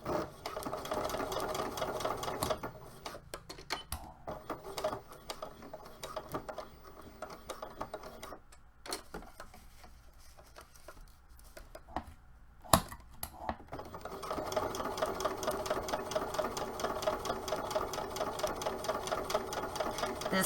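Home sewing machine working a slow stretch stitch without a stretch needle, a steady mechanical whir and tick that runs, pauses for a few seconds of near quiet with small clicks, then resumes at a constant pace.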